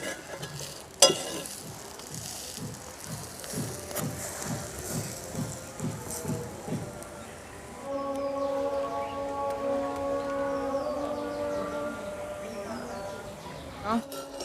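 Dosa batter frying on a hot pan in a Bengali home kitchen, a steady low sizzle with rhythmic scraping and stirring, one sharp clink, and a voice talking over it.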